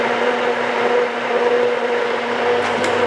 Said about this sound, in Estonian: siis ma blenderdan kogu selle kupatuse ära